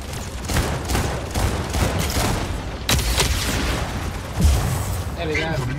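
In the Mech Arena video game, weapon fire comes in as dense rumbling bursts and booms, with one sharp impact near the middle, loud and continuous with a voice talking over it.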